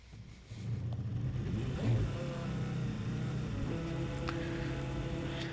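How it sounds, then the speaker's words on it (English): McLaren MP4/20 Formula One engine starting up in the rFactor racing sim: a short starter whir, then a steady, loud idle with a layered harmonic drone and a slight rise in pitch, with no talking. "Let's get the engine fired up."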